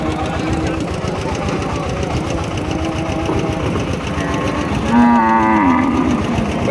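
A Nepali-breed cow lets out one loud, drawn-out moo near the end, over a constant mechanical hum and busy background noise at a cattle sale.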